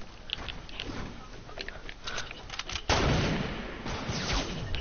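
Grenades thrown in a multiplayer shooter game detonate, a sharp loud blast near the middle followed by rumbling debris, after a stretch of scattered muffled shots and clicks.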